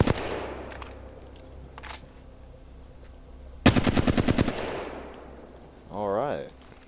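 A fully automatic assault rifle in the video game Apex Legends fires one loud, rapid burst of about a dozen evenly spaced shots. Quieter game sounds come before it, and a brief warbling tone follows.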